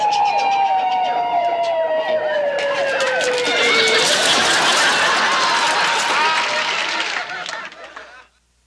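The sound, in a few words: ambulance siren passing down the street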